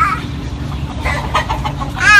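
Chicken clucking in short, close bursts of harsh cackling calls over a low background rumble, brief and fairly loud.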